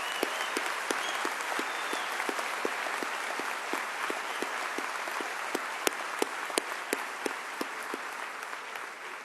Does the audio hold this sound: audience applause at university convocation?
yes